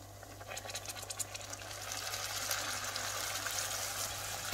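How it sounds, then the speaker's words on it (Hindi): Warm water poured into a simmering paneer lababdar gravy, a steady gushing pour in a home kitchen that swells slightly louder partway through, with a constant low hum behind it. "तो अब मैं यहाँ पे डाल रही हूँ हल्का सा गर्म पानी।"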